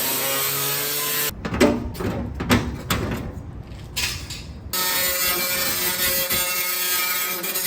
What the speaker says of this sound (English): We're gonna cut it out with the cutoff wheel.